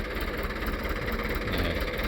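A tractor engine runs steadily at idle in a farm field, a continuous low rumbling drone with even vibration and no breaks.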